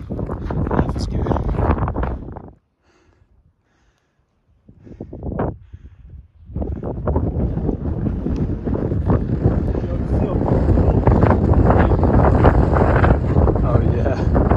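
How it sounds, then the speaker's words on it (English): Strong wind buffets the microphone on a mountain hiking trail, gusting in roaring bursts with a short lull before returning louder and steadier. "It's just windy today."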